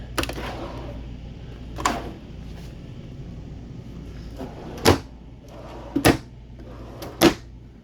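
Pull-out island drawers in an RV kitchen slide and get pushed in, giving several sharp wooden knocks and thuds spaced a second or so apart over a quiet room background.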